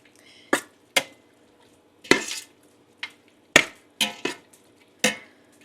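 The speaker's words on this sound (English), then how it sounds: "We're going to give that a stir" Corn is stirred with lime juice in a pot, heard as a series of about eight sharp, separate spoon-on-pot knocks and scrapes spaced irregularly, close by and clear over a quiet kitchen.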